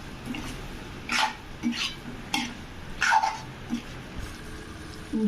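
Boiled wheat pasta is stirred into masala in a pan, making soft, irregular scrapes and clinks at close range, spaced every second or so over a quiet background.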